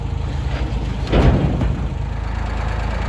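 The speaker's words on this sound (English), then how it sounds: "the little Ford's still not missing a lick, just sitting there idling and purring like a kitten" A Ford 2000 tractor engine idles steadily after a cold start, a continuous low, even rumble with a brief swell in the middle and no talk over it.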